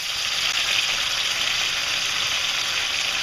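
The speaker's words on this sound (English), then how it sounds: "As soon as they're hitting the pan, they're gonna be browning really nice" Meat searing and browning in a hot pan for a sauce piquante, giving a loud, steady, close sizzling hiss that runs unbroken and alone.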